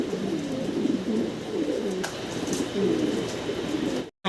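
A fancy pigeon coos in low, repeated throaty phrases, fairly close and steady throughout, with light background noise and a short dropout near the end.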